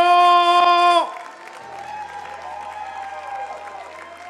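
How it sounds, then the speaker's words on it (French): Audience applause at the Barista France championship final at SIRHA 2019 breaks out after a sustained tone ends, with dense crowd clapping at moderate level continuing steadily to the end. "Un tonnerre d'applaudissements, Alexia Sivigno"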